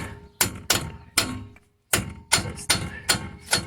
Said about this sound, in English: I'm just going to hammer on the new cap.